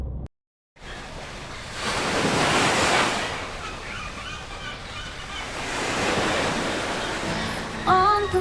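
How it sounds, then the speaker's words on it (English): Dark waves crash loudly on a shore in the video game Dragon Age: The Veilguard, a broad surging wash that swells and recedes with wind, with a few faint bird-like chirps near the end. "The busy dark waves crash loud."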